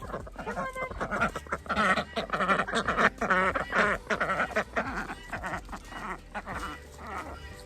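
Several ducks quack loudly and close by in a rapid, overlapping chorus on a homestead, the calls bunched in bursts and easing slightly toward the end.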